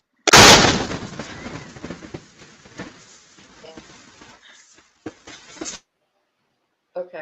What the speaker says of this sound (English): Sounds like explosions